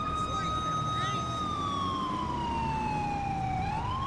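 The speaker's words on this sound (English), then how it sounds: "the CHP siren sounds so good, though." A California Highway Patrol police siren in Grand Theft Auto V with the LSPDFR mod wails steadily, sweeping down in pitch then rising again at the end, over a constant engine rumble.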